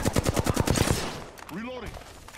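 Rapid burst of Apex Legends gunfire, about nine sharp shots in quick succession, loud and close, then stopping as an in-game voice line and a rising electronic tone follow.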